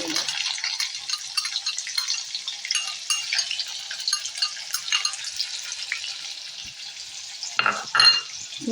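Green onion fries in hot oil, a bright, steady sizzle close by with faint stirring scrapes and a louder burst near the end.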